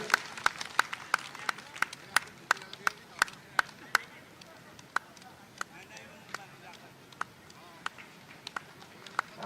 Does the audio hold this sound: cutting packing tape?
no